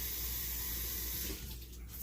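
Tap water from a kitchen sink runs steadily into a soup pot with a continuous hiss and splash. The flow thins and shifts near the end, and no one speaks.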